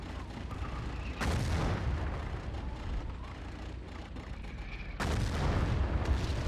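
Tank explosions in the World War II shooter Battlefield 1942 during a league armor match, two heavy booming blasts about four seconds apart over a constant rumble of battle noise.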